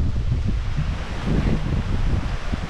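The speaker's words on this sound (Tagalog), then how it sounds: "hangin, nakakatakot, sobrang lakas" A strong, frightening wind blows across a farm with crops and vegetable vines, a loud continuous rushing roar with heavy low buffeting and no voices.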